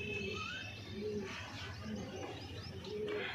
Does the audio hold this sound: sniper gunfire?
no